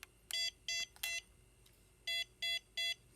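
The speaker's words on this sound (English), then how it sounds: "Triple beeps." Setup tones from a BETAFPV Cetus X FPV kit during stick calibration: clean electronic beeps, first a few scattered bursts, then a distinct evenly spaced triple beep, close and clear over a quiet background.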